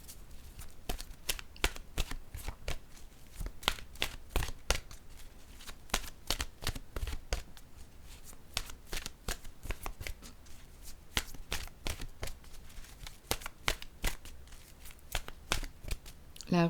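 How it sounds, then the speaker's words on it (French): Oracle cards riffled, tapped and set down in a quick, steady run of crisp close-up clicks and flutters lasting throughout, with a quiet voice speaking French under the card noise. "Là, je vais déposer maintenant une carte de mon oracle de l'âme intuitive."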